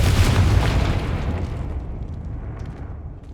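A Confringo spell bursts in Hogwarts Legacy with a single loud, close boom that rolls off and fades over a few seconds, with no voices.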